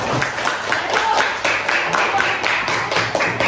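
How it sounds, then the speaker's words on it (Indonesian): A class of students claps hands together in a dense, close, continuous patter that stays steady and loud throughout the short stretch. "Tepuk tangan untuk semuanya."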